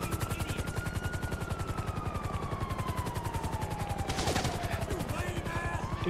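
Rapid gunfire in Grand Theft Auto V on PC rattles on continuously over a chopping helicopter rotor, with a long descending tone sliding underneath.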